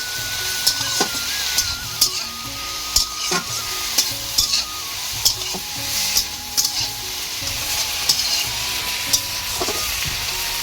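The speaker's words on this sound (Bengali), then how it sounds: "একটু নেড়ে চেড়ে নেব।" Greens with fried potatoes and eggplant being stirred in a sizzling pan: a steady frying hiss under repeated sharp scraping clicks of a spatula at irregular intervals, close and alone without talk.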